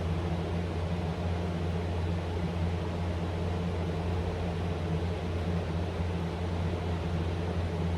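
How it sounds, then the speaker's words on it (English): Electric fan running outdoors in the morning, a steady broadband whoosh with a low constant hum, even and unchanging throughout, moderately loud with no voices. "Pardon the fan noise if you can hear it. I got a fan going out here already this morning."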